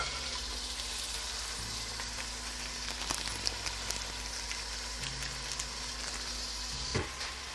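Onions and tomatoes fry in a pan for Sindhi biryani with a steady, dense sizzle and a few sharper pops, under faint background tones.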